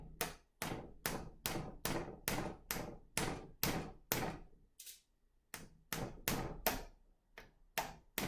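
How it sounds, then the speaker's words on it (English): Sharp, close hammer blows drive nails into a cardboard craft roll, about a dozen evenly spaced strikes with a short pause midway, each hit ringing briefly. "We're going to hammer the nails into the craft roll."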